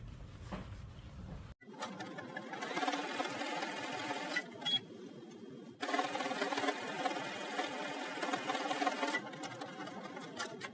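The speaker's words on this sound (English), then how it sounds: "take it to the machine and you're going to stitch right down the middle through the elastic ruffle" A sewing machine runs in long steady bursts, straight-stitching an elastic ruffle onto a sundress bodice and shoulder strap. A brief pause splits the runs, the whir is close and clear, and no one speaks.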